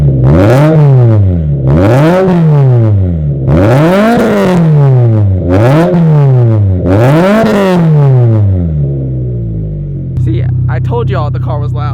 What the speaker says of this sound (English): give you guys a few revs so that we can have a proper comparison between the current BRZ RS Catback and the new AWE Touring Catback